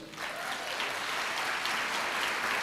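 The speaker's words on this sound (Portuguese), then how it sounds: "Dá uma salva de palmas a ela." Sustained applause from a church congregation, steady and full for the whole stretch, filling the room after a pastor's cue, with no talk over it.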